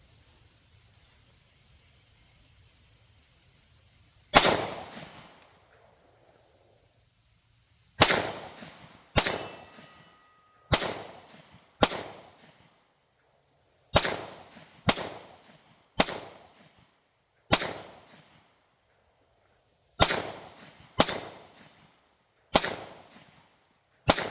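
Pistol fired at a target 25 yards away on an outdoor range, with a Sig P365 XMacro or Springfield Hellcat Pro fitted with a TLR-7A light. About a dozen sharp, loud single shots come at irregular intervals, each with a short ringing decay.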